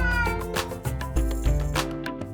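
A cat in a children's animal sounds programme gives a series of loud, drawn-out, wavering meows, close and clear, with several calls running back to back.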